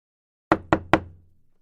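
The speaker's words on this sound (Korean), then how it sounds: "조심스럽게 문을 두드리는 소리가 들렸습니다" Three careful knocks on a wooden door, evenly spaced and close, each ringing briefly before a short decaying tail, with silence before and after and no one speaking.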